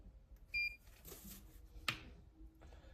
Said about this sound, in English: you can press standby to stop the buzzer.